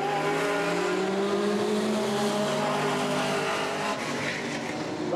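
Race cars circling a short oval at Redwood Acres Raceway on a cool 1989 night, warming their tires with a loud continuous roar of engines and shifting tones, no talk.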